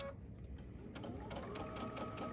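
A sewing machine back tacks a seam on a box corner bag, a close, rapid mechanical stitching rattle that starts soft and then runs steadily with quick repeating ticks.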